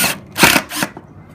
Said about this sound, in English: we've lift our gutter up, screw in, and straight through the back